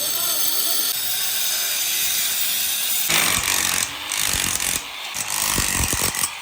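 An angle grinder whines with a steady high-pitched hum, then the tone roughens into harsh scraping and grinding against a steel door's metal, with brief pauses.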